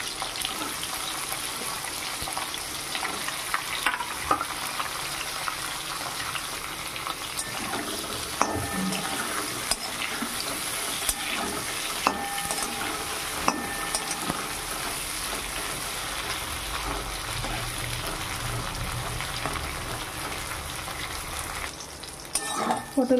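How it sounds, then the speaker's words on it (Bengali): Pointed gourd frying in hot oil in a home kitchen, a continuous close sizzle and crackle with occasional scraping stirs and clinks, running steadily throughout. "এবার ওই তেলে দিয়ে দেবো পটলগুলোকে খুব সুন্দরভাবে ভেজে নেব।"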